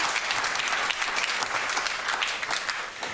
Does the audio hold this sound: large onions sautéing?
no